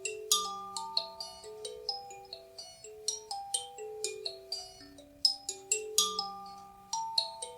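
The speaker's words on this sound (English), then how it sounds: "I love this instrument. It's called a kalimba." Kalimba, a wooden block with metal tines of different lengths, plucked with the thumbs in a gentle melodic run of bell-like notes that ring and decay, close and clear with no voices.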